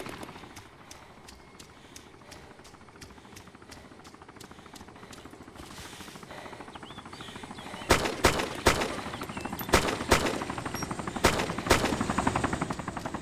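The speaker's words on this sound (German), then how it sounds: "Wer hat denn da geschossen jetzt?" In the video game DayZ Origins, gunfire rattles first as a fast run of faint distant shots, then gives way to several louder, sharper single cracks at irregular intervals over steady background noise.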